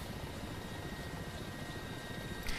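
A Mi-8 helicopter in the DCS flight simulator drones with a steady, loud rotor and turbine whine, unbroken throughout, with a brief extra burst near the end and no speech.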